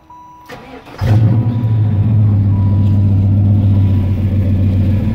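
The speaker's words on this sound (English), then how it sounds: "Modified stock-ish exhaust." A Buick wagon's engine fires up after a brief crank and settles into a loud, deep, burbling idle, with a throaty, slightly poppy note from Dodge 392 mufflers on small exhaust pipes.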